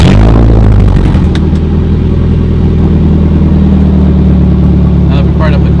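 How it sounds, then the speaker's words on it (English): A car engine turns over and fires up, then settles into a steady, loud, close idle that runs continuously with a few faint clicks on top. "now that we fired up the car"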